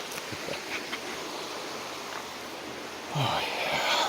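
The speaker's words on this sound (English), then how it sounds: "Got the creek going here." Steady broadband rush of a creek that was just switched on, flowing continuously at moderate level, with a brief louder surge of splashing near the end.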